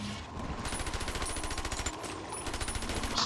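A mini turret in Bioshock 2 fires rapid, continuous bursts of machine-gun-like shots, loud and close, with a brief lull near the middle before the rattling resumes.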